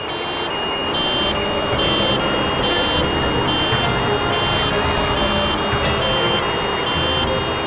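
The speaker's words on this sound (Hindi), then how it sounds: "सर 3 एम्बुलेंसेस एक साथ।" Loud, continuous electronic siren wails from three ambulances fill the scene, several overlapping tones cycling rapidly over a dense rumble of traffic noise.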